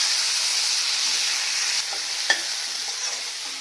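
Browned onion and a medium tomato frying together in a pan for misal pav, a close, even sizzle holding steady with one short clink of a utensil, with no talking.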